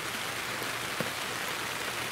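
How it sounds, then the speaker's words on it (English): Steady rain falls outdoors in the woods during Pennsylvania deer rifle season, a constant even hiss of drops with no breaks, fairly loud and close all around. "I'm gonna sit in the rain"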